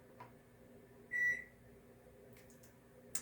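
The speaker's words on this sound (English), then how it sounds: "My microwave just beeped for some reason." A single short electronic beep comes from an empty kitchen microwave oven. It is clear but moderately quiet over a low room hum, with faint clicks afterward.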